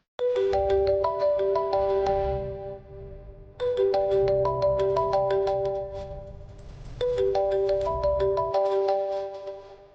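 A phone ringtone plays a bright repeating melodic phrase three times, loud and close, with no talking.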